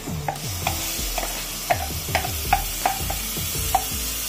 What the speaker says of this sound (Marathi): त्याला असं व्यवस्थित ढवळत राहायचं घट्ट होऊस्तर